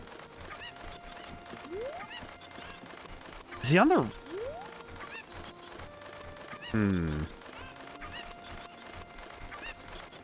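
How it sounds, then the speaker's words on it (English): Cucco chickens in Zelda: Ocarina of Time let out a couple of sharp, loud squawking bursts against steady game music, with someone talking over the scene. "I can only imagine someone being driven mad by the sound of these chickens going at it."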